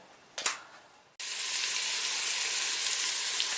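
Onion for a bean and aloe vera stew drops into a hot pan after a brief clatter, then sizzles loudly and steadily, a close, even frying hiss with no talking.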